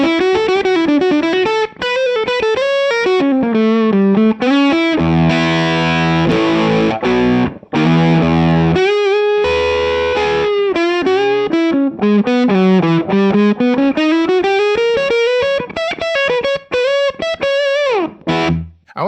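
Distorted electric guitar played through a UAD Enigmatic '82 Overdrive amp emulation with a Les Paul humbucker, thick early-90s tone, no reverb or slap, just amp and a little room; a continuous melodic solo line with bends and sustained chords.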